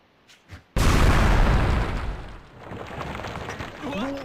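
Explosives blowing up in the Radiant Historia role-playing game, a sudden loud boom after a couple of faint sounds, then a long rumbling decay with a tonal effect at the close.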